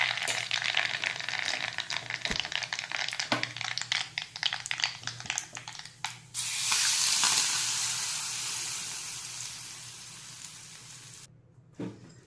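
Asafoetida, turmeric and chili hit hot oil with a steady crackling sizzle that surges loudly partway through, then slowly fades, with scattered stirring clicks and no voices.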